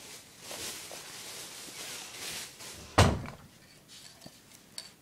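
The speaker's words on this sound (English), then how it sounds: "can you close my door please?" A bedroom door shuts with a single sharp slam midway through, standing out over steady room noise, followed by a few faint knocks.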